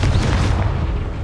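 Confringo fire spell blast in Hogwarts Legacy, a loud, dense booming burst with heavy low rumble sustained through the moment, no speech over it.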